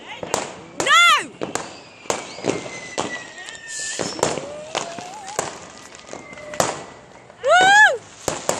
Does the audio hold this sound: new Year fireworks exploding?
yes